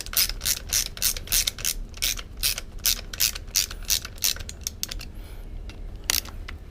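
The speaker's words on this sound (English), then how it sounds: "Choke up on your ratchet." A hand ratchet tightens bolts during the reassembly of a Yamaha XJ600 Seca II motorcycle engine. Quick, close, rhythmic bursts of pawl clicking come in short strokes, then slow and stop near the end.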